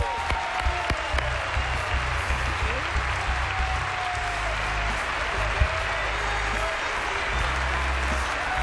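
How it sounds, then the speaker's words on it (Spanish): Audience applauding Los Nobles de Monterrey on a television show, a dense, sustained wash of clapping from a large crowd with cheers mixed in, loud and continuous throughout. "Por favor, el aplauso."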